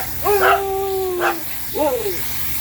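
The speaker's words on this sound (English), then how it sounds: "except when the sleep dogs are barking" A dog gives several short yips and whining barks, three quick bursts close by at a dog wash with a portable self-contained tub, over low background hum.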